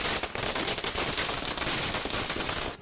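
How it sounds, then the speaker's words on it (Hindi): Fireworks set off outside a bungalow during a street celebration crackle and pop in a dense, continuous volley, loud and close for a few seconds. "थोड़ी ही देर में आतिशबाजी भी शुरू हो गई।"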